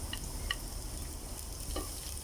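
Garlic cooking in hot oil makes a soft, steady sizzle with a couple of light utensil clinks, faint and close, with no voices.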